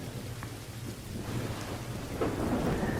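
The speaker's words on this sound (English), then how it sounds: "The only thing audible through the violent rain was the sound of the thunder," Violent rain hisses steadily in the dark night of the horror game Corpse Party, with low rolling thunder rumbling beneath it and swelling louder toward the end.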